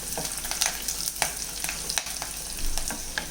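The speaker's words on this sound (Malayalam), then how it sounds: "ഇതൊന്ന് ഇളക്കി കൊടുക്കാം." Curry masala for a tomato curd curry fries in a pan, a constant sizzle broken by sharp, repeated taps and scrapes of a spoon stirring close by.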